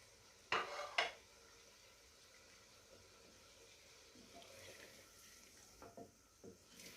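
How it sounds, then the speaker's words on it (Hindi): Chopped onions frying with chicken in a pan for desi murgh karahi, opening with two sharp clattering scrapes, then a quiet, steady sizzle broken by faint stirring taps. "प्याज डालने के बाद अब इसका भी कलर चेंज होने तक हम इसे भूनेंगे"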